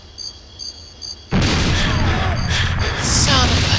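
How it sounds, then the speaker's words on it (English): Enemy grenade explosions in GoldenEye 007 on the N64: a few quiet beeping tones, then a sudden loud blast that keeps roaring and rumbling, swelling again toward the end, close and filling the scene. "One of the only times it makes sense for the enemy to throw grenades at us."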